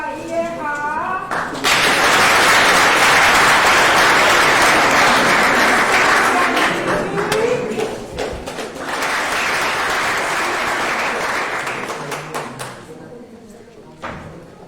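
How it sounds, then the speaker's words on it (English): Loud crowd applause welcoming a panelist onto the stage at an HIV awareness panel event, a sustained burst of clapping that fades, then a second wave of applause, with a voice speaking briefly at the start. "Please help me welcome, with a huge round of applause"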